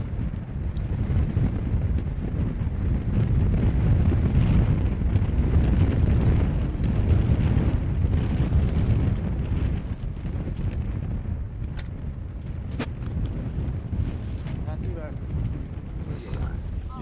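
Strong wind buffets the microphone in a steady, roaring rush near the Liaohe River in northeast China, with gusty low rumbling that barely lets up throughout.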